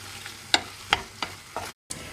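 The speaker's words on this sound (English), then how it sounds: "After adding the seafood, go ahead and stir them all together" A spoon scrapes and knocks through seafood in a pot of okra stew, giving several distinct stirring strokes over a soft sizzle, with a brief dropout near the end.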